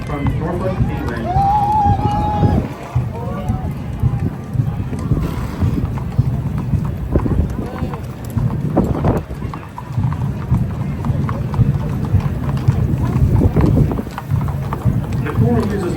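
Texas A&M Corps of Cadets cavalry horses parade, hooves clip-clopping in an uneven stream beneath steady wind noise, while someone narrates over the procession throughout.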